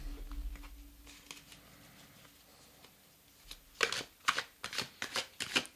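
A fairy and enchanted-creatures tarot deck being shuffled by hand, starting with soft handling and then a rapid run of crisp, close card riffles.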